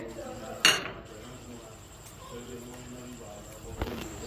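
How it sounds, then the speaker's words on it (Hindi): Fried cashews being added to a pot of Mughlai chicken, giving one sharp metallic clink of a utensil against the pot, a quiet stretch, then a softer second knock near the end. "अब हम इसमें ये काजू ऐड करेंगे जो हमने फ्राई किए थे"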